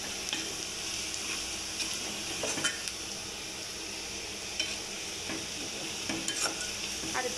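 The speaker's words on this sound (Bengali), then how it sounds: "এই যে এখানে পেঁয়াজ, রসুন, শুকনো মরিচ আর জিরা ভাজতেছি" Onion, garlic, dried chilli and cumin frying in oil for khichuri, a soft steady sizzle with occasional light scrapes and clinks of stirring.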